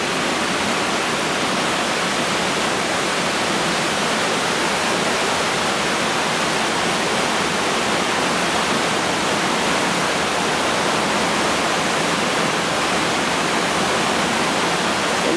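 River water rushes steadily over a weir near a stone bridge in Aberkenfig, a loud, unbroken roar of broadband splashing that holds constant throughout.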